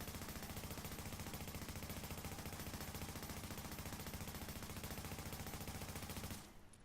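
Rapid automatic gunfire from the video game The Division rattles in a fast, even stream of shots at a training yard, steady and loud for about six seconds before cutting off abruptly.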